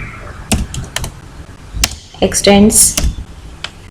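Keystrokes on a computer keyboard while entering template code: a few scattered, sharp clicks and taps close by, with a brief spoken voice in the middle.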